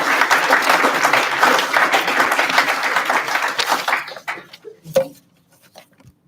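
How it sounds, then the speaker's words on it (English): Audience at a fire department promotional ceremony applauds for newly sworn-in and promoted firefighters, a dense loud wash of clapping that thins out and fades into a few last claps and quiet. "So can I ask for a round of applause for the"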